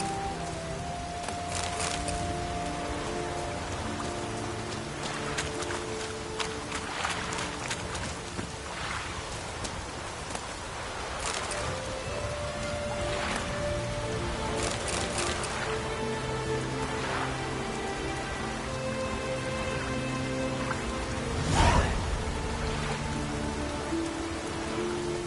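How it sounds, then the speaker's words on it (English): Steady rain in The Witcher 3 video game pattering on a surface, with scattered droplet hits and a louder splash near the end, no voices. "Looks like rain."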